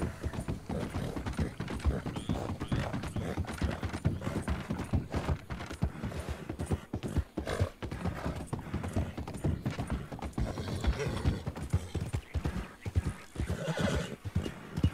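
Steady horse hooves clip-clop throughout in Red Dead Redemption 2 Online, with an occasional whinny mixed in, fairly close and continuous.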